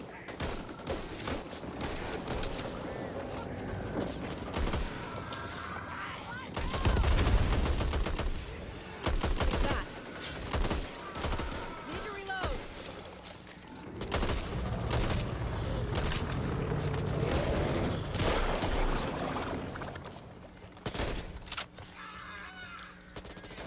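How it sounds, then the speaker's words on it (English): Loud, chaotic gunfire in the zombie shooter Back 4 Blood, including heavy super shotgun blasts, with repeated shots and bursts over a dense game soundscape and occasional talk. "That's what you call a super shotgun."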